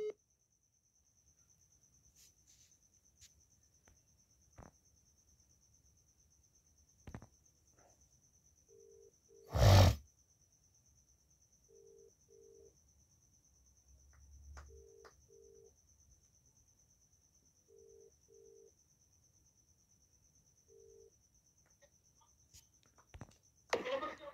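A phone call dialing: a faint repeating ringback tone pulses in pairs over a quiet hum, with one loud thump in the middle.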